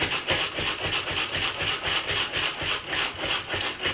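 A manual pump chopper spinning its blade through chicken chili ingredients gives a rhythmic rasping, scraping churn, repeating in quick even strokes close up with no talk.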